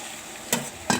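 Meat pieces sautéed with spices in a pan, stirred in two short, sharp bursts of scraping and sizzle over a low, steady frying hiss, close by.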